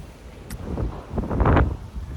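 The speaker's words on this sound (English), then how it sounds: "Getting windy here." Gusty wind buffets the microphone with low rumbling bursts, rising and falling, loudest near the middle; no voices.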